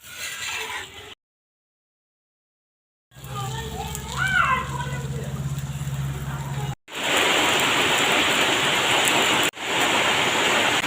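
Aloo paratha frying in a mix of white oil and ghee on a pan, a steady loud broadband sizzle filling the later seconds, with an earlier quieter stretch under a low hum and a short gap of silence.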